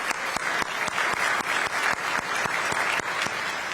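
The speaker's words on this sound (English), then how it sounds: "I just want to give a big round of applause to them" A conference audience bursts into steady applause for the founders of a dinner group, dense clapping that holds at an even level throughout, fairly close and with no voices over it.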